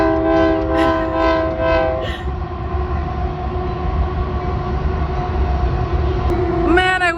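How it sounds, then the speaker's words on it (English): A loud train rumbles steadily past while its horn blares in long sustained blasts, with a brief higher whistle near the end. "here comes a train"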